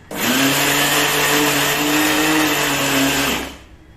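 A mixer grinder whirs steadily at full power for about three seconds, grinding red chilies, dried coconut and groundnuts for a dry wada pav chutney, close and loud with no talk, then winds down.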